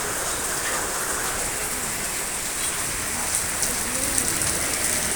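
Heavy evening rain pours steadily in Sholokupa, a dense, continuous hiss of drops on surfaces that holds even and close throughout, with no voices.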